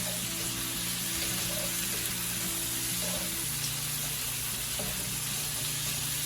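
Shrimp frying in a pan and being stirred, a dense, constant sizzle with faint scraping, close and loud throughout, with no voices.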